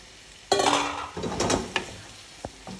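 Vegetables softening in a pan after salt and pepper, stirred with a few clattering scrapes of the utensil against the pan over a light sizzle, close by, with no talking.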